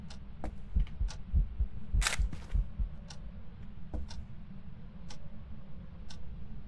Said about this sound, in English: I started hearing the heartbeat